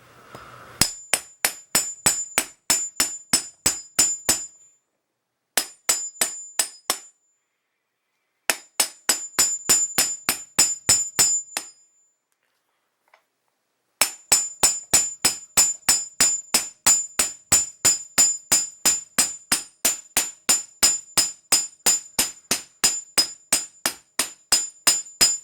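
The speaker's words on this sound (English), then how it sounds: "Grab your bearing out, put it on, then punch it on." A metal punch is hammered to drive a bearing onto a long Casablanca ceiling fan shaft, producing loud, sharp ringing metallic strikes in fast even runs with brief pauses between the series, near and with no talking.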